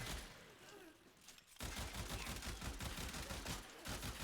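Loud, rapid automatic gunfire from a gun in Warframe, a dense stream of shots that starts abruptly after a quieter stretch and keeps hammering close up with a brief break near the end.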